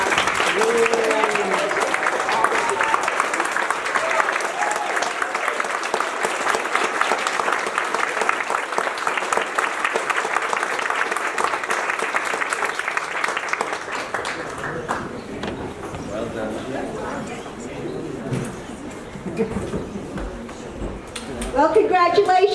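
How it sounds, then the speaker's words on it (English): An awards ceremony audience breaks into sustained applause, dense clapping from a large crowd that carries on for about fifteen seconds before thinning out, with voices rising afterward. "let's give another round of applause"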